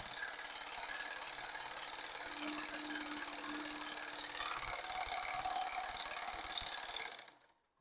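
A sewing machine stitching a ladies' salwar, running in one steady, continuous mechanical whir for about seven seconds before cutting off abruptly.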